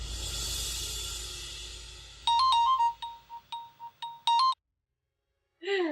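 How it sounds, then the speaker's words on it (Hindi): A phone ringtone plays a short, bright electronic melody of several clear tones in quick bursts, fairly close, following a dramatic music sting and ending in silence before a voice begins. "वो डॉक्टर साहब का फोन था।"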